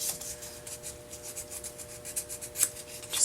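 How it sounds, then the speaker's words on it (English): Sandpaper lightly rubs over a wooden sweater-pattern pumpkin, making soft, quick back-and-forth scratchy strokes that stay faint and close, with no voices. "You could also go in there with some sandpaper very lightly and get that off."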